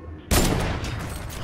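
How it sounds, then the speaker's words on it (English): A single heavy sniper shot in Fortnite, a sudden loud blast that rings out and decays slowly into a long reverberant tail. "I'm so good with the heavy sniper."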